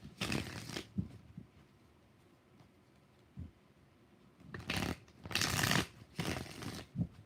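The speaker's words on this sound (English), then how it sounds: "5 shuffles." Tarot cards shuffled by hand in short riffling bursts, several separate rustling shuffles with quiet gaps between, close and fairly soft, no talking.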